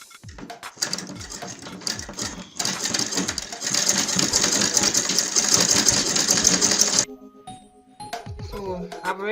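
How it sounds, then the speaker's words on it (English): A sewing machine stitches a fabric scrunchie headband, running as a loud, steady mechanical whirr for several seconds in the middle, with handling clatter before it and a person talking after it stops. "I'm going to stitch. So let's go and stitch."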